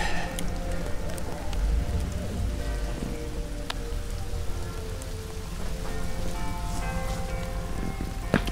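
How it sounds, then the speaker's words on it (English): Hail falling during a storm, a dense steady patter of hard pellets striking surfaces nearby, with scattered sharper cracks of individual stones throughout. "Well, now there's hail."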